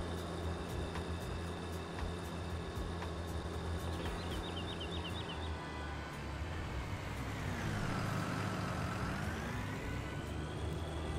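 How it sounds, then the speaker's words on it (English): A lorry drives steadily in the farming video game Farming Simulator 19, its engine droning continuously with a low hum, while a tone sweeps downward and back up near the end. No one talks. "I'm driving in the lorry at the moment"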